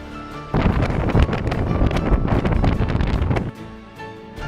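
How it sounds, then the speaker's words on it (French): A loud roar of strong wind buffets the microphone for about three seconds, rising abruptly and cutting off, with calmer air before and after, above Calvi, Corsica. "par un fort vent."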